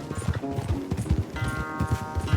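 Horse hooves clip-clop at a gallop during a race in Red Dead Redemption 2, a steady rhythmic beat up close, with a brief whinny and game music or voices layered underneath.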